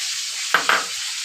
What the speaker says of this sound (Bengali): আমি এটাই মাংসের মধ্যে দিয়ে দেবো, তাহলে এটাও ভাজা হয়ে যাবে, মাংসটা ভাজা হয়ে যাবে।